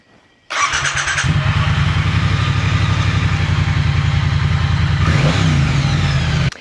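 A motorcycle engine, nicknamed Hugh, starts up after an oil and filter change and settles into a loud, steady running idle close by, with a brief rise in revs near the end and no talking.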